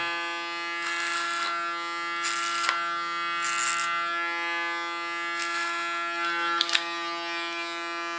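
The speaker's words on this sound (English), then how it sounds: "Put my clipper in the combing position." Electric hair clipper buzzing steadily through a haircut, a constant motorized drone with several brief louder bursts as it bites into hair, close and alone without talk.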